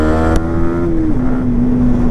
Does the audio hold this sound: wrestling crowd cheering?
no